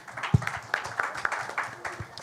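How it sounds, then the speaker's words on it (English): Scattered claps ring out from the audience at a Filmfare Awards press conference, sparse and uneven rather than a full ovation, with faint voices murmuring in the room. "A huge round of applause for him."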